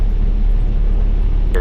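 A Piper Cherokee 140 single-engine airplane on its takeoff roll down the runway at New Bern, its engine a loud steady low drone with wind buffeting throughout.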